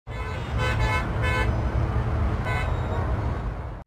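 Steady roar of city traffic with a couple of short car horn toots early on and another later, all fairly loud and continuous.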